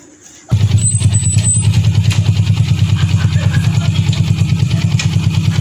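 Motorbike engine running close by, a loud, steady low throbbing with regular pulsing that starts abruptly and continues without fading, with no speech over it.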